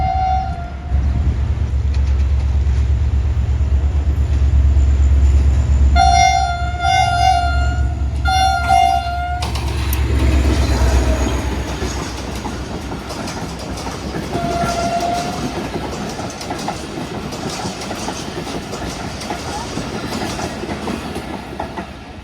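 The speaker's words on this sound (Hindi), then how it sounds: "मेहरान एक्सप्रेस आ रही है इस वक्त मेरे सामने से सिर्फ 5 से 6 डब्बों के साथ" The Mehran Express, a passenger train of only five or six coaches, rumbles past close by with heavy low roar and wheel clatter, and its horn sounds in several short blasts before a longer tone.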